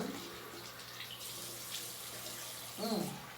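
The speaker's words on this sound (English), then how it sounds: "I'm rinsing off the Bentonite clay mask." Tap water runs steadily at a sink while a bentonite clay face mask is rinsed off, a faint, close, continuous wash with a brief splash near the end.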